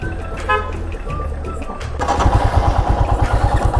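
Local traffic rolls through a police checkpoint on the road near Dhanushkodi. A motorcycle or car engine idles, then throbs louder and nearer with rhythmic pulses, and a short horn toot sounds amid outdoor background.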